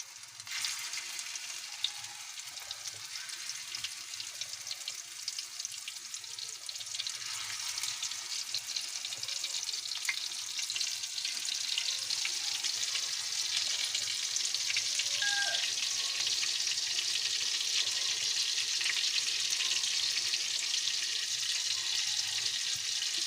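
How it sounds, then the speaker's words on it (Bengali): Shrimp fritters frying in hot oil on a griddle, a continuous crackling sizzle that grows louder and denser over time, close and with no voices. "আমি এখন বড়া দিলাম মাথা।"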